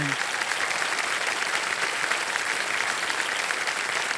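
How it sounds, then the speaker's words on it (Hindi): A studio audience on the KBC quiz show applauds a contestant, a continuous, full wash of clapping that stays loud and even from start to finish. "तालियां बज जाए आपके लिए।"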